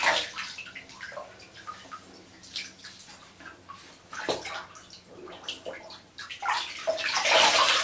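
Water wrung from a soapy washcloth during a bathroom skincare routine, splashing and dribbling in uneven bursts that swell louder toward the end, with no talking.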